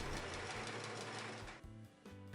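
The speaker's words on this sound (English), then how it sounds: "Sew the scraps into strips." A sewing machine stitches strips made from men's shirt scraps with a fast, even mechanical chatter at close range, slows briefly, then picks up its rhythm again; no one speaks.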